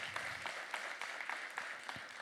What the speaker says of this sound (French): Ça mérite 2 applaudissements